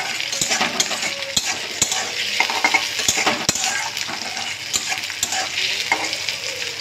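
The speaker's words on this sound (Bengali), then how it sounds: "তো পেঁয়াজ আর টমেটো কিন্তু দুটো ভাজা ভাজা হয়ে আসছে" Onion and tomato fry in a pan with a continuous sizzle, punctuated by frequent clinks and scrapes of a spatula stirring against the metal, close and steady throughout.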